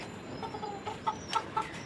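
Pigeons in their loft at home, with a few soft, short coos and calls close by over a quiet background.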